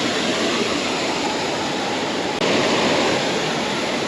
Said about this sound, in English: Those are some impressive waterfalls from this angle. Probably 20, 30 feet tall.